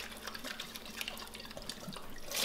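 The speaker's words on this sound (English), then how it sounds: "pour out about half, and then I always put my hand over and just give it a shake." Water sloshes and patters inside a beer glass half-filled and covered by a hand while being shaken, faint and close, with a louder splash at the very end.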